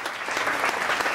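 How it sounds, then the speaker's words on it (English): A crowd applauds for a performer at a show, producing a dense, continuous wash of clapping that stays fairly loud and even for the whole brief moment, with no voices over it. "Listen to that applause."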